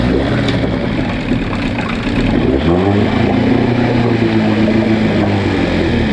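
An old Evinrude outboard motor catching and running after being choked, a continuous loud mechanical drone that shifts pitch as it settles into a rough idle, close by.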